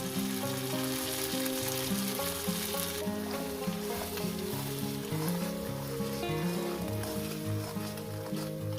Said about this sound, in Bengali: মশলাটাকে সুন্দর করে কষিয়ে নিতে হবে